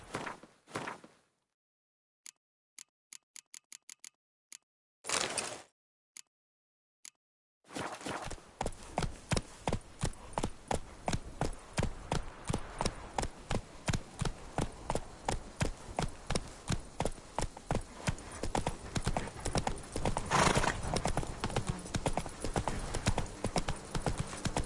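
Roach, the horse in The Witcher 3 video game, breaks from a few scattered hoof clops into a fast, steady gallop, with loud rhythmic hoofbeats that continue for about seventeen seconds.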